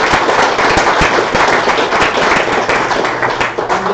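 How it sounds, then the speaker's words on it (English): An audience at a UCL free-energy workshop claps together, a dense, loud, continuous patter of many hands that holds steady for the whole stretch. "let's give them a round of applause as well"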